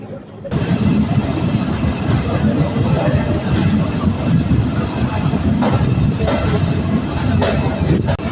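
Nakshikantha commuter train pulling out toward Rajbari, a steady loud rumble of the moving carriages with rattling wheel noise that starts abruptly and holds close and continuous throughout, faint voices underneath.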